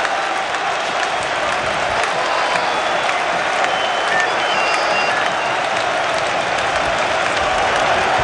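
Stadium crowd of Arsenal fans applauding in a standing ovation at a UEFA Cup match, a steady, dense roll of clapping with faint cheers, continuous and loud throughout.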